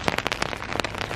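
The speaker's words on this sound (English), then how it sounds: "every time you walk outside and it's just pouring rain" Pouring rain patters near an umbrella outdoors, a dense run of sharp close drops spattering over a steady wet hiss.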